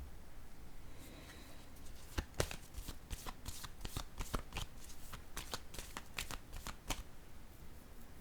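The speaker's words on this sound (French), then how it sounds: "Je vais piger une carte ici." A deck of tarot-style cards is shuffled close up, a quick run of crisp riffling snaps and taps over several seconds, with no talk.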